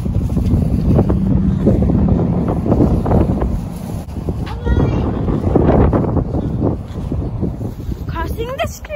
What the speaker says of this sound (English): And it's very, very windy outside.